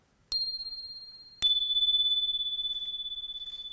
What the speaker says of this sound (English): This is called tone bar.